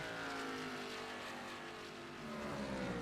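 Race car engine in iRacing at Charlotte, coasting through a corner with the clutch in, giving a steady droning hum with harmonic tones that sag and then rise slightly, loud and continuous with no voices.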